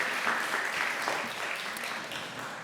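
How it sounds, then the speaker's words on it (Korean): A church congregation applauds during a Sunday worship service to congratulate middle and high school students receiving prize money, as steady, dense clapping that carries on for the whole stretch, with a faint voice beneath it. "우리 박수로 축하해 주시기 바랍니다."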